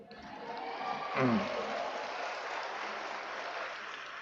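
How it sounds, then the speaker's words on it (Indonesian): Students applauding at a university professorial inauguration ceremony at UIN Alauddin Makassar, a soft, diffuse patter of clapping from a large hall, with a brief voice rising through it early on. "Yang tepuk tangan ini berarti mahasiswa saya semua."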